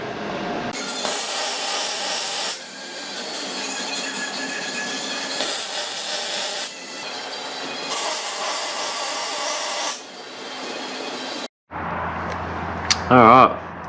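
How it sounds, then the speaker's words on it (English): Angle grinder cutting welded crush tubes flush with a Ford Courier chassis during a solid axle swap, a loud sustained metallic whine in long bursts with brief pauses, stopping near the end. "Now I'm just going to grind this back so it's nice and flush with the chassis"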